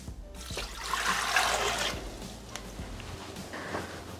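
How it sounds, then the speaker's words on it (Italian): Water pours into a Thermomix mixing bowl in a steady splashing stream that swells then tapers, with a few small knocks near the end, close and moderately loud, no talk. "Iniziamo la ricetta mettendo all'interno del boccale l'acqua"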